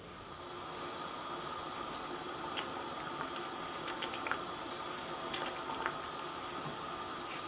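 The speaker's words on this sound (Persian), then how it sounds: "و حالا ما بقیه آب مرغ رو بهش اضافه میکنم." Chicken broth poured into a simmering sauce for green fesenjoon, a steady soft liquid rush with faint bubbling and a few small clinks, with no talking.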